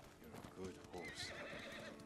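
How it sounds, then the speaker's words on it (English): A horse in the video game Ghost of Tsushima whinnies amid clip-clopping hooves, brief and fairly quiet, mixed with someone talking and game ambience. "He is a good horse."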